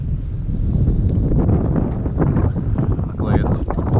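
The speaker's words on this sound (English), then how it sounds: "I was hoping the wind would die down a little bit" Strong wind gusts roar steadily across an open lake shore on Lake Huron in spring, buffeting the microphone in a loud, continuous rush with no pauses.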